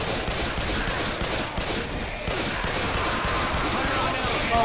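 Dense, continuous gunfire from a Left 4 Dead 2 zombie shooter fight, rapid overlapping shots at steady loudness throughout, with game noise and voices mixed underneath.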